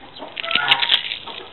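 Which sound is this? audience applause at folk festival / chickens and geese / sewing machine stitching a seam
chickens and geese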